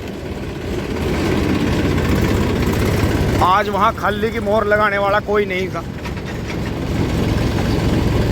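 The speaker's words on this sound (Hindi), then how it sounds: "यहाँ लगातार ट्रक चलते रहते हैं।" Trucks and tractors running at a sugar mill, a continuous low engine rumble and idling throughout, with someone speaking over it in the middle.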